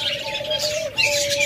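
A pair of big-sized albino lovebirds with red eyes, white feathers and yellow beaks chirp close by, a bright continuous twittering with a sustained whistling tone, no speech.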